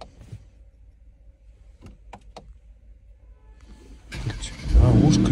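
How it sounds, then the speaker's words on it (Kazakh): A stock car's engine cranks and catches near the end, roaring loudly after a quiet stretch of soft clicks and shuffling inside the vehicle. "Оталса болсын ішінде. Отал."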